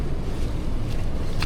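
Strong wind buffets the microphone at a Philippine beach during the southwest monsoon, a loud, rough, continuous low rumble with a faint surf-like hiss, no voices.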